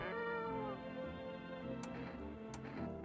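A cat in a video game gives a drawn-out, wavering meow over ambient game music, followed by a couple of faint ticks.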